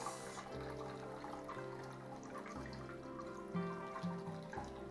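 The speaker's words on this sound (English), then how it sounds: "go ahead and pour it into our glass" A shaken drink is poured into a glass, a soft trickle and splash heard under background music with a steady beat, with no talking.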